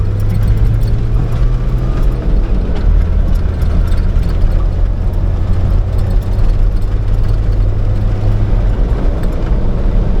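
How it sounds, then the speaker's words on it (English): A tractor engine runs steadily in the outback with a deep, loud low rumble, and a rougher grinding gear change cuts in partway through before the drone of the engine carries on alone. "a little bit of grinding on that gear"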